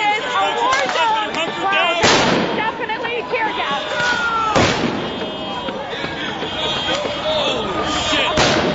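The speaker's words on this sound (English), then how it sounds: "You're using flashbangs." Flashbang grenades go off at a street protest in Oakland, with two or three loud sharp bangs over a crowd that shouts and talks constantly.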